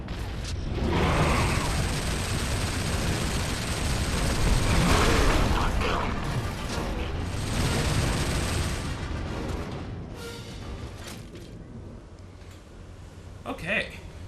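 A frag grenade detonates in the video game Gears of War, a loud booming blast that swells amid ongoing gunfire and combat noise, with a player talking over the action.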